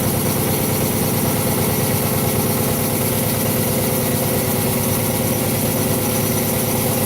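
A steady, loud mechanical drone with a low throbbing vibration runs continuously as a powered drill grinds into a log without pause.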